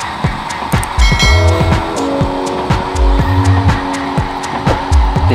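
Racing cars in the Racing Fever mobile game roar and rev with repeated sharp tire squeals and skids, loud, busy game audio with engine tones rising and falling throughout.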